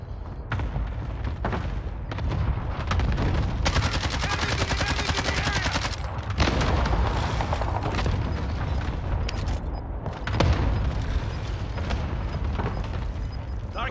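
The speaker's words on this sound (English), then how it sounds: "Enemy cluster strike." Cluster strike bombardment in Call of Duty: Warzone, loud sustained volleys of blasts and rapid gunfire in bursts, with sharp impacts breaking through dense battle noise.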